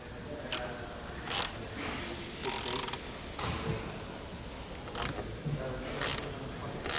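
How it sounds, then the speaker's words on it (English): On a Ferrari F355 in a garage, a hand ratchet works at a stubborn screw, sounding as short bursts of rapid clicking at irregular intervals over a quiet, close background. "But will Nick have the same good luck with the second stubborn screw?"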